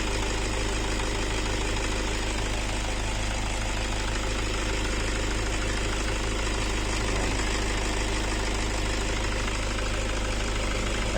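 The diesel engine of a 2012 Toyota Fortuner, repaired for a not-charging fault, runs at idle with a steady, continuous close drone and a faint knocking texture; no one talks.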